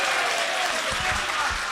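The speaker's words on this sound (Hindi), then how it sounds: "आप अपने लिए एक बार जोरदार तालियां बजा लीजिए" A ghazal concert audience breaks into dense, steady applause that fills the room evenly and continuously from start to finish, with no voices rising above it.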